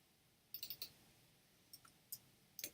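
Quiet mouse clicks, a quick cluster of three or four near the start and then scattered single clicks, crisp and close against a faint background hum.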